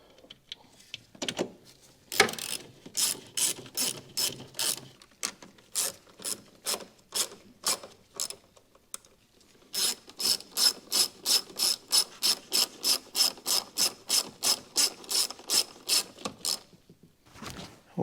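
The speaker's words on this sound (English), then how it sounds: "Put our 3 10mm bolts back on." A ratchet tightens three 10mm bolts on the coolant reservoir of a 2012 BMW X3 (F25), making close, crisp runs of rhythmic clicking with brief pauses, ending in a long steady series of even strokes.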